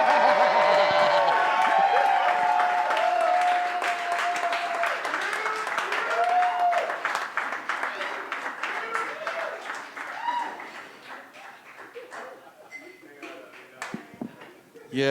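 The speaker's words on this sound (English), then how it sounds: "Round of applause, everybody." A comedy club audience claps and cheers loudly at first, the applause thinning and fading gradually over about fifteen seconds, with a voice speaking over the crowd.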